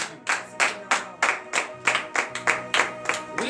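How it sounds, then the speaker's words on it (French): Rhythmic clapping at a Beninese morning prayer gathering, about a dozen sharp, regular claps in steady tempo from a small group, fairly close, with faint voices underneath. "je vous demande d'applaudir très fort le Seigneur Jésus"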